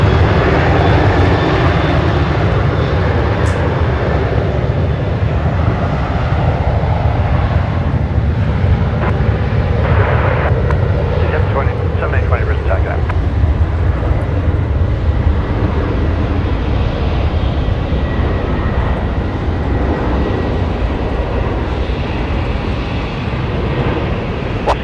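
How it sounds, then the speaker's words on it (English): Qantas airliner rolling for takeoff on runway 19 left at night, a loud continuous engine roar with low rumble and some wind buffeting, sustained throughout. "here's Qantas 545 off to Sydney tonight as well. Rolling now, runway 19 left."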